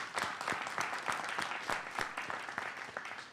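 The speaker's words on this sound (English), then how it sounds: "So let's give a round of applause to Secretary Tong." A press conference audience in Oakland applauds Secretary Tong, a fairly quiet, scattered round of clapping with distinct individual claps, heard at some distance.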